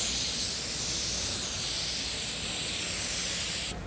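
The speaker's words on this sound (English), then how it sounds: "I've got this very smooth, even coat of paint all the way across that hood." A paint spray gun lays an even coat across a car hood, a loud, close, steady hiss holding nearly four seconds alone before cutting off sharply.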